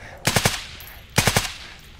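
Two short bursts of rapid automatic gunfire from a Squad firefight, three loud, sharp shots in each burst, separated by a pause.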